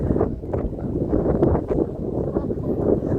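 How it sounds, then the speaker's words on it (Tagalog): Wind rushes and buffets against the microphone in a continuous low roar outdoors on the Gold Coast, with no clear voices. "Napakasarap ng hangin"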